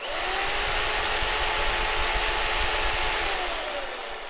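A TACKLIFE reciprocating saw runs free at its maximum speed setting, giving a loud, steady mechanical whir with a high whine that holds level and then winds down slightly at the end.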